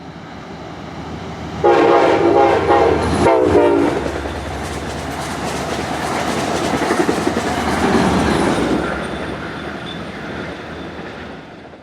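A Conrail Heritage locomotive on the Hudson Line roars past with its horn blaring in two loud blasts, followed by the rumble and clatter of the train rolling by.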